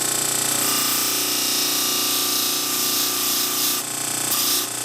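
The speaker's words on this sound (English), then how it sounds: "I'm going to take it over to the sander and I'm going to have a level sand on the face of it" A big drum sander runs loud and steady as it flattens the face of an intarsia wood tail-feather piece, with a continuous grinding whine and small shifts in load.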